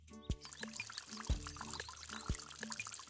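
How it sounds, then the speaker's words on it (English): Cartoon rain pours down as a steady liquid splashing wash, with three deep, dull thuds spaced about a second apart and a soft tonal music bed running beneath. "It's raining."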